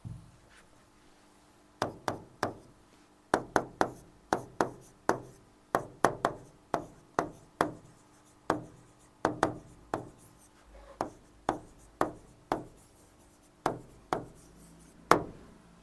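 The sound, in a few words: writing a sentence on a board during an English grammar lesson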